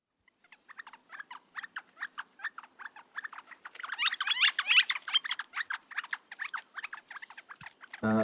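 Woodpecker contact call of a mated pair meeting at the nest tree: a long run of quick, sharp, evenly spaced squeaky notes from a close bird, building briefly in intensity mid-series before tapering, otherwise quiet.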